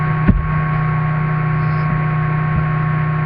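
A PC gives off a steady low electrical hum with faint static, alone and constant, with one brief soft thump early on.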